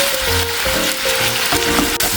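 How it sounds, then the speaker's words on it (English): Marinated shrimp frying in a hot pan for a jalapeño popper shrimp quesadilla, a steady close sizzle and crackle with faint stirring, no talk. "Now we're gonna add in the shrimps that we just marinated."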